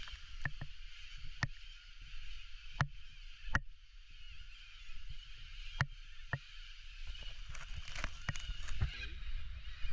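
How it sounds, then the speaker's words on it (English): Birds chirp and sing beside the Murray River in the early morning, with sharp repeated calls and a steady chorus over a low background rumble, close by and fairly clear. "Birds still singing."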